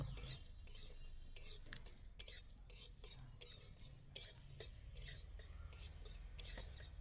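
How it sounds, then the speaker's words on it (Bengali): Spices fried slowly over low heat in a pan for a drumstick (sajne danta) pickle, with repeated scraping and stirring strokes of a spoon over a steady low background, no talk. "হালকা করে জাল দিয়ে আস্তে আস্তে করে মশলাটাকে ভেজে নিতে হবে"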